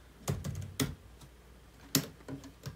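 A computer keyboard used during flashcard editing in Anki: a handful of quick, close keystrokes in small clusters, crisp clicks separated by short pauses.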